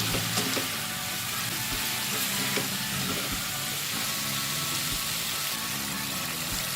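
Tofu fingers and bok choy stems stir-fried in a hot pan, with a loud, steady sizzle and intermittent scraping taps of the spatula, up close and without speech.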